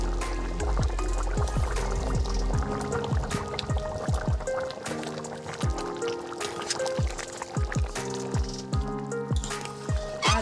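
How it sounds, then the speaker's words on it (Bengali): Garam masala paste goes into a simmering potato and meat curry in a village kitchen, with a string of wet squelches and drips as the thick gravy is stirred, loud and close. "এবার গরম মশলা বাটা দিয়ে নামিয়ে নেব দিয়ে দেবো গরম মশলা বাটা"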